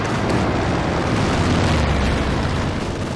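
Artillery shells from a time-on-target strike pound the battlefield in Company of Heroes 2, a dense, continuous rumble of overlapping blasts and booms with no clear gaps, loud and close throughout.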